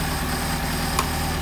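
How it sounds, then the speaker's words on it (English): A car engine idling on Solex carburetors, a steady low even rumble with a faint click near the end, close by and without talk. "you can tell the difference in how the engine is idling"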